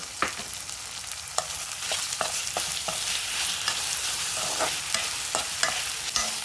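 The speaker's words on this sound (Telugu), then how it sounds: "ఇలా ఇవి ఈ ఫ్రోజన్ బెండకాయలు కూడా ఇలాగా వేసేసి" Frozen okra for a prawn curry sizzles softly in a pan, with a steady hiss broken by repeated clicks and scrapes of a utensil stirring, close and fairly quiet, with no voices.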